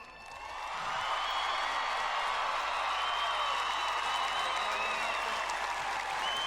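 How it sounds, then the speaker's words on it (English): A crowd at a high school state championship football event bursts into sustained applause that swells within a second and holds steady, thick clapping mixed with faint cheers and whoops. "give them a round of applause"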